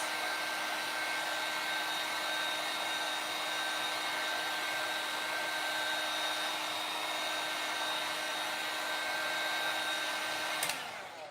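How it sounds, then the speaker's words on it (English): A heat tool blows hot air for crafting, giving off a steady close whooshing hum with a faint high whine that runs for about eleven seconds before it clicks off. "I have a super hot heat tool"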